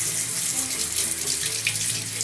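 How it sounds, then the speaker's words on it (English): Room-temperature water pours from a tap into a bucket, a continuous close splashing gush with a faint rising tone as the container fills, steady and alone without talk. "So take one of your buckets, and you fill it with kind of like room temperature water."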